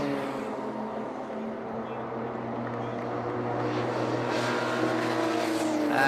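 Race cars including an AS Racing Team BMW and a Volkswagen Scirocco closing on the finish line, a continuous loud engine drone that swells near the end as cars pass close; a commentator talks over it.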